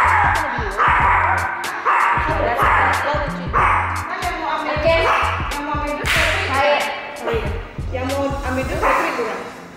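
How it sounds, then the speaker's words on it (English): A puppy barking repeatedly in sharp, loud yips and bow-wows at a fast uneven rhythm, close by, with a few whimpers among the barks. "her barking is not never gonna go away, but you can control it"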